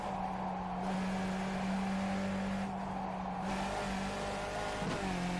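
Skip Barber race car held in second gear at Lime Rock Park in iRacing, a steady droning engine note under throttle that shifts pitch with brief lifts and ends in a quick drop.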